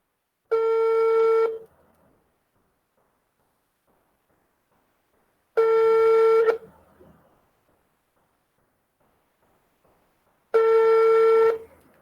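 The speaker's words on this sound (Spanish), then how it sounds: "Doble regaño porque no contesta el teléfono." A telephone rings unanswered in three identical electronic rings, each about a second long, spaced roughly five seconds apart with silence between them.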